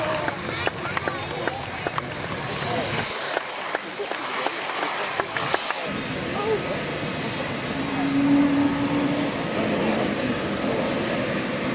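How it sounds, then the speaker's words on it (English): Twin-engine aircraft powered by two Rolls-Royce Dart turboprops at an air show, a broad steady engine roar building and passing across the whole clip, with crowd noise and a commentator's voice over the top. "Powered by the Rolls-Royce engines, two of them, two Rolls-Royce Adore turbo packs."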